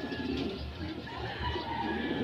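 Pigeons at a loft give soft, low cooing, steady and fairly quiet throughout, with faint outdoor background.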